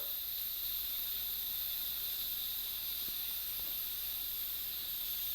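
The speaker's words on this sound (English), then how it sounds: "the lever pushed about halfway, letting the steam out" Steady, close hiss of steam escaping under pressure from an Instant Pot pressure cooker, lever half open, even and continuous throughout with no voices.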